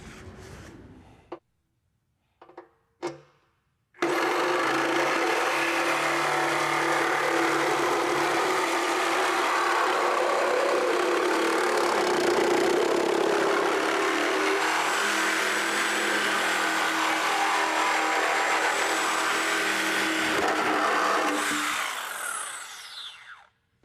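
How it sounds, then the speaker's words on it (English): A Milwaukee Sawzall fitted with a regular bimetal blade saws through a 2008 Ford Focus OEM bumper beam, a few short clicks and bursts first, then a loud, sustained rasping buzz for about twenty seconds before it winds down. "Notice I have a Milwaukee Sawzall with a regular bimetal blade."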